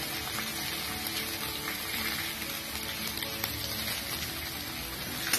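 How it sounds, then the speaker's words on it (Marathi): Sliced onion sizzles in a pan with spices and curry leaves while cooking masala rice, a steady, dense crackling hiss that carries evenly throughout with no voices. "आता हा कांदा छान असा लालसर सोनेरी रंग येईपर्यंत फ्राय करून घेऊया"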